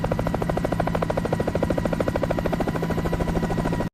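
A helicopter flies over North Sentinel Island, heard as a loud, steady, rapid rotor chop with a pulsing rhythm and a continuous engine hum, close and alone, cutting off abruptly at the end.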